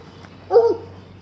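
An old dog lets out one short, close whine-like bark in a quiet outdoor setting, a single brief yelp with no other sounds around it.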